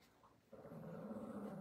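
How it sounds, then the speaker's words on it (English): A dog growls low and steady at close range, starting softly and then holding a continuous rumbling growl, with no voices over it. "Miss Izzy, stop that growling. You are grumbly"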